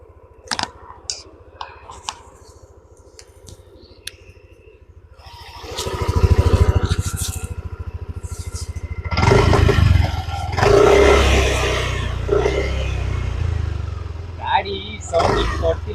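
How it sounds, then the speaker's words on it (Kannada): A Yamaha Aerox 155cc scooter's exhaust swells from a quiet, ticking idle into a loud, close engine roar that rises and falls in bursts, with someone talking over it. "ಸೊ ಈಗ ಎಕ್ಸಾಸ್ಟ್ ಕೇಳಿಸ್ತೀನಿ ನೋಡಿ."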